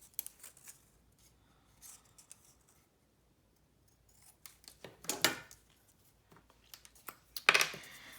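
Scissors trim leftover strips of paper: scattered soft snips, then two louder, crisp cuts toward the end, close up in a quiet room.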